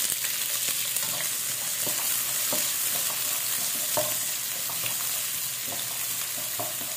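Onion fries in a pan with a steady, close sizzle, punctuated by light clicks and taps of stirring at irregular intervals.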